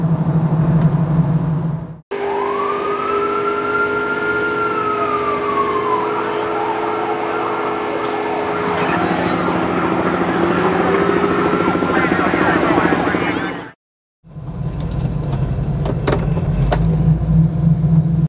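A 1971 Chevrolet Nova V8 drives along with a loud, steady rumble and a rising then falling whine from a sustained pull, cut off by two abrupt breaks.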